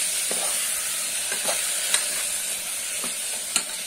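Chopped carrots fry in a pan for a vegetable pulao, a steady close sizzle running throughout with a few sharp scrapes and knocks of a stirring spoon against the pan.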